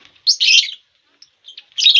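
Lovebirds in a breeding colony of cages give short bursts of shrill, high chirping, two loud clusters with a faint call between, close and without talk.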